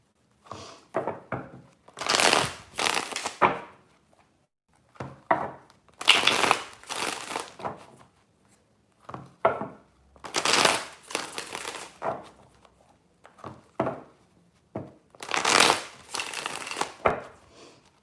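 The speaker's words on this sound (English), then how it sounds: "Universe, spirits, and guides. 3 shuffles." Tarot cards being shuffled in three separate bursts of crisp, papery riffling and crunching, close and fairly loud, with quiet pauses between each shuffle.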